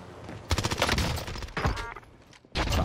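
OTS-9 submachine gun firing in Call of Duty: Warzone on Rebirth Island, several rapid bursts of automatic shots with short pauses between them, loud and close.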